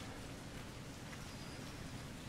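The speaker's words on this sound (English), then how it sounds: "Here comes the rain." Steady broadband rain hiss in the survival horror game Resident Evil Revelations 2, an even, continuous downpour with no breaks and no voices.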